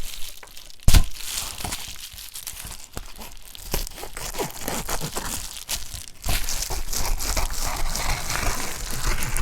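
Shipping material being cut and trimmed into journal covers, a dry crinkling and tearing rustle with a sharp crack early on, then steadier, denser crumpling toward the end.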